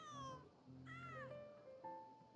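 A cat meowing close by, a short run of several distinct rising and falling meows with brief gaps between them, fairly quiet, with no talk over it.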